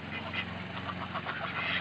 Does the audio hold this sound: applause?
no